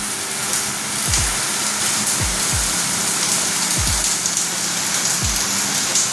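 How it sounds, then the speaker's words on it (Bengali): Heavy, continuous rain pours down with a dense, steady hiss, and a few low descending thumps recur beneath it at irregular intervals. "এক নাগাড়ে বৃষ্টি হয়ে চলেছে"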